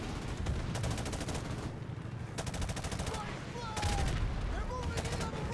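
Rapid automatic gunfire from a Modern Warfare Remastered campaign battle rattles in dense bursts with a brief lull, loud and continuous, with explosions and combat noise layered underneath.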